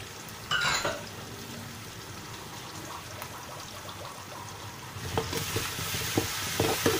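Ground chili paste for a black pomfret curry with okra and tomato frying in a pan, a steady close sizzle throughout, brightening and growing more active toward the end.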